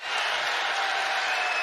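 A basketball arena crowd roars steadily during a college men's game between Notre Dame and Illinois, a broad, loud wash of cheering with no pauses.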